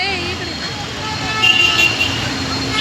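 Steady street traffic hums along a roadside, with vehicle horns tooting over the continuous roar of passing cars and buses.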